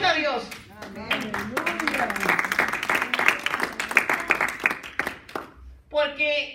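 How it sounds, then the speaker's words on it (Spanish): A church congregation claps in praise while voices carry over the top, the clapping rising as a busy patter beneath the talk and dropping off briefly before a voice returns at the end. "¿Cuánto le dan un aplauso a Dios?"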